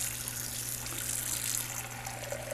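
Steady water running from a kitchen tap into a pot, filling it to boil four eggs; a continuous even gush with no talk.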